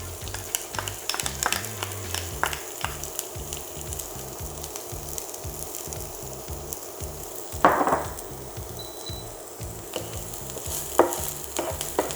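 Small shallots frying in a pan with melted fat, a steady close sizzle with occasional stirring scrapes and a couple of louder crackling bursts, no talk.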